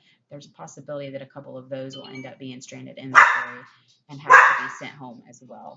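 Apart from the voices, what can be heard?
dogs barking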